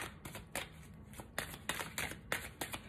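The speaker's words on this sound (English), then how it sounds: "I'm being told to shuffle in between each one of your cards" Tarot cards being shuffled by hand in a run of quick riffling bursts with short pauses between, close and moderately loud, with no talking.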